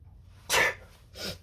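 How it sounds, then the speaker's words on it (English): A close, sharp sneeze bursts out, followed a moment later by a softer, breathy second burst; no talking. "One sec, I'm gonna sneeze."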